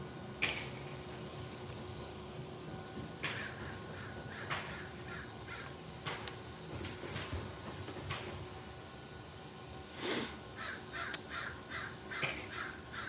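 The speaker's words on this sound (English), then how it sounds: "Sounds like there's a couple of crows." Several crows caw repeatedly outdoors in short, harsh bursts, some close and some farther off, with steady background hum and no talking.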